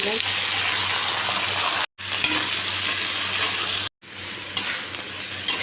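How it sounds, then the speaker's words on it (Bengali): Potatoes frying in a pan give a loud, dense, continuous sizzle close by, cut by two brief dropouts, with faint scraping touches. "আলুটা ভেজে নিচ্ছি"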